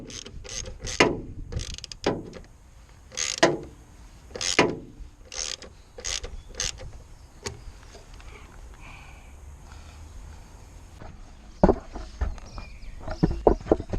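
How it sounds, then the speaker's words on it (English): Ratchet wrench turning a bolt while changing the wiper motor on a Ford Fiesta MK6, giving bursts of close, crisp clicking ratchet strokes with a few sharp knocks of the tool against the metal bonnet. "a few times then I hit the bonnet with the ratchet"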